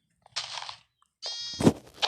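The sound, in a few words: sheep bleating in the video game Minecraft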